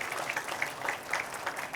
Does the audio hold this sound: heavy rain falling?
no